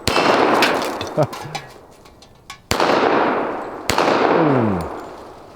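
.45 ACP handgun shots fired at an outdoor target: two loud, sharp reports with long echoing decay, along with a few metallic clanks of hits.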